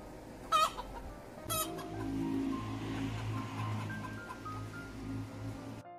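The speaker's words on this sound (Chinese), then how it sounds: "小鸡上树了，他们每天晚上都是蹲在树上过夜的" Farm chickens roosting in a tree for the night cluck softly, with two sharp squawks near the start over a low steady background hum.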